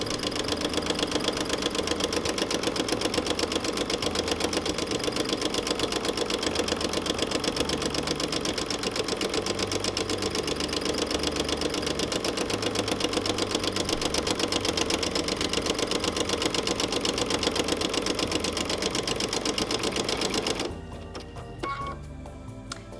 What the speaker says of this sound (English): now I'm just going to finish off with some free motion curls for the butterfly's antenna.